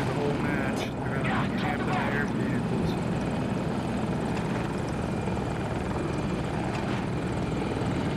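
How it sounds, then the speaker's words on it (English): A helicopter approaches in the video game Battlefield on the Hourglass map, its rotor roar loud and constant throughout, with players talking over it. "Chopper's coming right for y'all."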